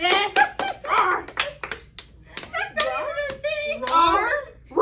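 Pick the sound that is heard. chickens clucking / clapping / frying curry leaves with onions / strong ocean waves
clapping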